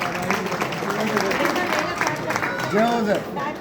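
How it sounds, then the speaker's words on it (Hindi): A crowd claps steadily for a guru throughout, with a voice speaking over the applause. "गुरुजी के लिए ताली होनी चाहिए"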